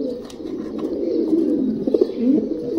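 A ten-year-old racing pigeon, aged and with a leg problem, coos steadily and close by in a continuous low, throaty burble that swells slightly near the end.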